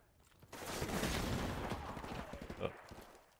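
AK rifle fire in Modern Warfare Remastered, a dense, loud burst of rapid shots running nearly three seconds without a break, with a short quiet lead-in before it.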